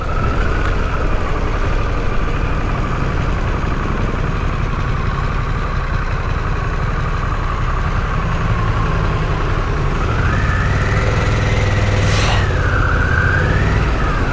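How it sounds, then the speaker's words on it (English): Traffic in a Thai town with engines idling and motorbikes passing, a steady close rumble and whine, joined near the end by a rising and falling siren-like tone. "Motorbikes are just everywhere"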